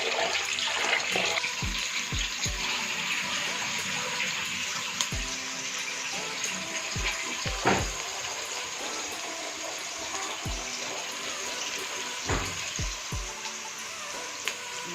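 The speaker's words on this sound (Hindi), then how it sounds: "ये इसको मैं अच्छी तरह वॉश कर दें" Rice being washed in water in a home kitchen for matar pulao. Water sloshes and splashes steadily and close by, with repeated soft knocks and clatters against the pot, and no talk.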